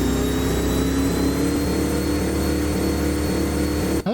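A vintage Ford 534 cubic inch V8 in an F800 truck in American Truck Simulator holds a steady, loud, droning rev under load with a deep rumble, running continuously until cutting off abruptly near the end.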